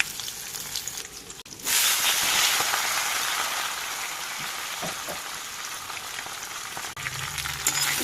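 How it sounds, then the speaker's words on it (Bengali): Vegetables and spices for Bengali shukto sauté in a hot pan, with a loud, steady sizzle and hiss that starts suddenly and continues with faint stirring scrapes. "সব মশলাগুলো সব সবজিগুলো কষিয়ে নেব"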